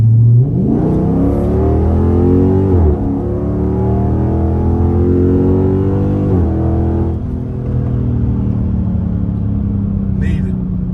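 A car's 392 engine revs up under about three-quarter throttle, pitch climbing in a couple of surges before settling into a steady higher drone, close and loud.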